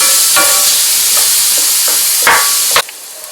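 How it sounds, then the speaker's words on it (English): Onions sizzle in a hot pan with bright crackling hiss, broken by a few scraping stirs near the end, close and loud. "Now while the onions were frying"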